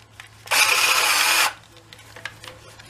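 A power drill fitted with a nibbler attachment whirs at high speed for about a second, loud and close, then stops, leaving quiet room tone with faint clicks.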